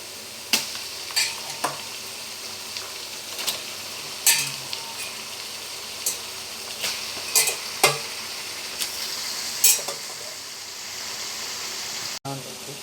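Chicken goes into a pan of curry and fries, a steady sizzle broken by scattered metallic clinks and scrapes of stirring against the pan, close and fairly loud.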